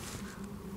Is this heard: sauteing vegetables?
no